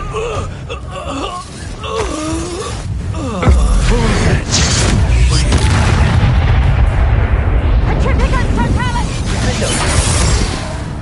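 Spell blasts and explosions go off during a Hogwarts Legacy wizard duel, with loud booming impacts, crackling bursts and mechanical clatter. Shouted voices cast spells over the din, which swells into a sustained roar halfway through.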